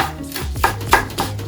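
A knife chops fresh parsley on a cutting board, a few distinct thumping cuts spaced about every half second, close and fairly clear.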